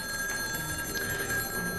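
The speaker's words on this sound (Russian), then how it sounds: "Телефон." A telephone rings in a flamenco bar, a steady electronic trill that continues through the whole short moment with no one talking.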